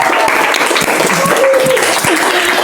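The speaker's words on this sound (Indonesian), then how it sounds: "kita kasih tepuk tangan dong buat Bu Bisakti" Loud, sustained applause from a group in an Indonesian school event setting, honoring a teacher after a game. It is steady and dense, with a few sharper individual claps standing out.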